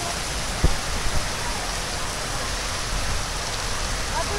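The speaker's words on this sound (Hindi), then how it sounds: "ये गली के देखो भाई कैसे गली के अंदर पानी चल रहा है जैसे नहर चल रही है" Heavy rain pours steadily over a village lane in Hisar, Haryana, with water rushing down it like a canal, forming a dense, continuous wash of noise with a couple of faint thumps early on.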